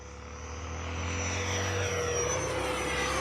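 A Freewing A-6 Intruder radio-controlled jet with 80mm ducted fans takes off, its loud, steady whining roar growing a little louder and holding strong with no voices over it.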